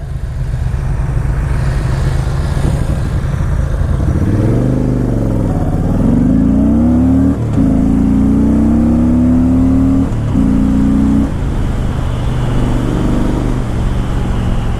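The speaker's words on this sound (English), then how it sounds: "It moves pretty well for a cruiser bike. It's got a good sound to it." An old Saber cruiser motorcycle rides along with a deep, low engine note that rises and falls as the throttle opens and eases, loud and steady throughout with no voices.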